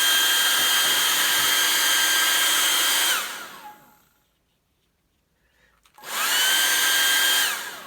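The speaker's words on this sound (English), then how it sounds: "hair dryer handy for when I'm impatient" A handheld hair dryer drying watercolor paint on paper blows a loud, steady whirring roar for about three seconds, winds down to silence, then starts up again at full strength.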